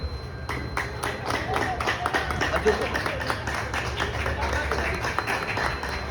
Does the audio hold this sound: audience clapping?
yes